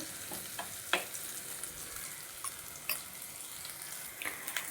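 Crushed ginger, garlic and black pepper sizzle softly in a pan for fish curry. The frying is faint and steady, with a few sharp clicks of stirring.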